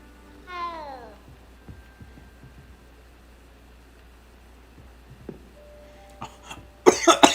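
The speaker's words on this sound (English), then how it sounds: "Choking on spit." In Hogwarts Legacy game audio, a character coughs and chokes on spit in harsh bursts near the end, after a cat's meow early on and otherwise quiet background.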